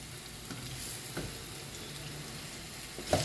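Whole Indian gooseberries cook in a pan over a medium flame for pickle, with a soft, low sizzle that runs throughout and a brief clank of a ladle near the end.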